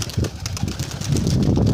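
Pigeons take off from an opened coop in a short loud burst of low, fluttering wing beats and soft cooing, close by and growing denser toward the end.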